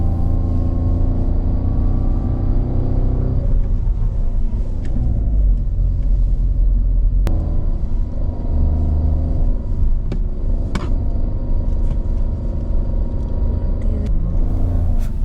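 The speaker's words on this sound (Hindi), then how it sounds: "आपको इंजन का आवाज़ सुन के ही पता चलता है कि कितना स्टीप असेंड ये वाला भी है." A Tata Altroz's engine labours steadily up a steep climb toward Photila Pass, a loud, continuous low drone whose pitch dips and rises with gear and load changes, with occasional sharp clicks.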